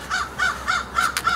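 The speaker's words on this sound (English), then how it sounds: "Well, hello, Mr. Crow." A crow caws repeatedly outdoors, five quick harsh calls in an even rhythm, loud and near over a steady background hiss.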